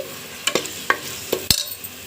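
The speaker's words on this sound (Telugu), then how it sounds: "సన్నగా కట్ చేసిన టమోటా ముక్కలను కూడా వేసుకోండి ఈ టమోటా ముక్కలు మెత్తబడే వరకు బాగా ఉడకనివ్వండి" Chopped tomatoes and green chillies cook in a pan, with a soft sizzle beneath a few sharp scraping stirs of a utensil against the pan, close and fairly quiet.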